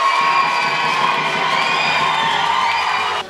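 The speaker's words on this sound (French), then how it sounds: "L'Assemblée a éclaté les acclamations et un chant joyeux." A church congregation in Tampouy erupts in loud, sustained cheering and joyful shouts at the midnight turn of the New Year, a dense crowd roar that holds steady before cutting off abruptly.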